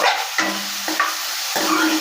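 Small chicken pieces sizzle in hot oil in a pan as they are stirred, with a few distinct scraping strokes of the spoon over a steady frying hiss.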